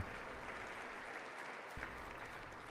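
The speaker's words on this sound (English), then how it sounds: "I wasn't sure if anybody even on this side was going to applaud for that" Faint, steady applause from a large audience in a hall during the State of the Union address continues throughout, heard distant and thin, with a small bump partway through.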